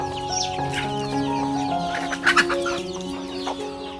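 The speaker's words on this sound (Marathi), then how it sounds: "कोंबड्याच कोंबड्या." Free-range village chickens cluck steadily in a large enclosure, several birds overlapping at close range with a couple of louder sharp calls near the middle.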